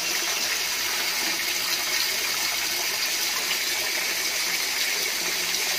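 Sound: water gushing from a tap

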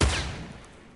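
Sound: gunfire in the video game Fortnite

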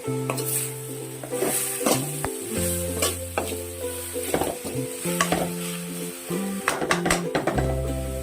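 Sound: stirring drumstick leaf thoran in a pan on the stove

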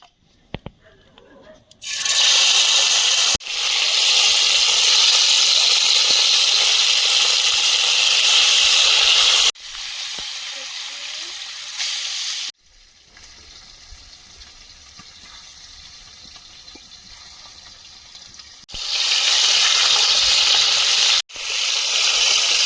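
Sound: katla fish frying in oil in a pan

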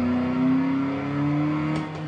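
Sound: simulated car engine revving during gear change in driving game

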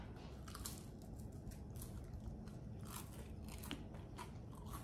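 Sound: biting into a crispy Belgian waffle

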